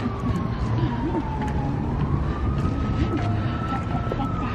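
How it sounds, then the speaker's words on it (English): A distant siren wails with a slowly rising and falling tone over constant traffic-like background noise in Laguna, California. "doesn't like sirens"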